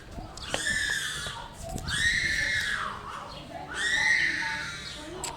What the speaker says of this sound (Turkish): nasıl ağlıyor? İğne vurulunca böyle oluyor işte.